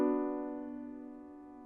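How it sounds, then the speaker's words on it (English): A single piano chord from Satie's Gymnopédie No. 1, played evenly with no voice brought out, rings alone and decays slowly over under two seconds. "If you play it straight, it will sound something like this"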